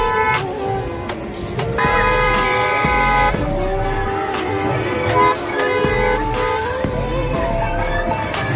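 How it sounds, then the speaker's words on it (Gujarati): A car arrives at an ashram in Junagadh during a Mahashivratri gathering, and loud, sustained horn honking and blaring tones fill the air around its approach. "પૂજ્ય બાપુની પણ ગાડી આવી રહી છે."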